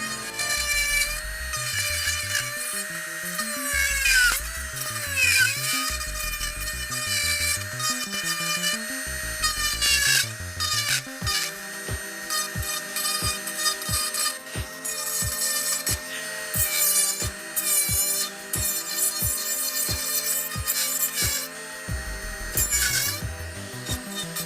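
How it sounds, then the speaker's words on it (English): A Fordham rotary tool grinds rotten, punky spalted wooden blocks, its whine rising and falling in loud, close passes with rhythmic pulsing against the soft wood. "And then just get stuck in it with a Dremel"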